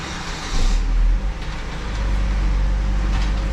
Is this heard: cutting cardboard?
no